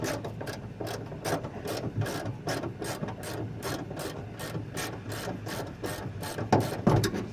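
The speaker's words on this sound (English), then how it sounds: "I'm loosening the bolt down here." A ratchet wrench loosening a hood bolt on a 2007 Chevy Tahoe, clicking in fast, steady bursts of close metallic ticks, with a few heavier knocks near the end.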